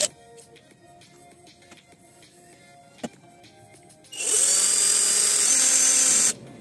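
A power drill with a 1.5 mm bit whirs loudly at high pitch for about two seconds boring into a carbon motor brush, steady and close, after a quiet stretch with a single sharp tap.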